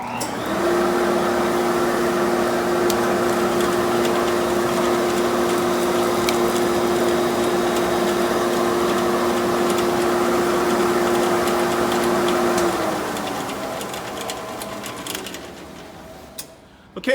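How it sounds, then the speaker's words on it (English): Drill press boring holes in wood while a shop vacuum runs, a steady loud whine with a fixed hum that holds for about thirteen seconds, then winds down and fades near the end, no voices. "I can turn on the vacuum and I can go ahead and drill my holes"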